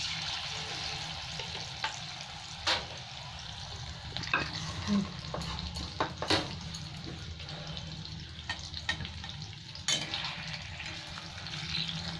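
Eggs frying in oil in a pan on low gas heat for dry egg chilli, a steady close sizzle with scattered clinks and stirring scrapes, and a brief splash of running water partway through.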